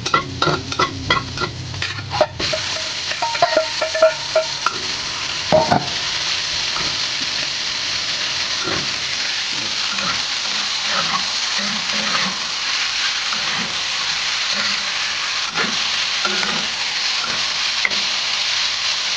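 Marinated pork for pork igado sizzles loudly in a pan with browned onions, broken by clattering bursts of a spatula stirring early on, then a steady frying hiss with occasional scrapes.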